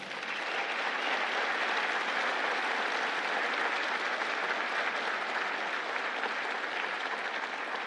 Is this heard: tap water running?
no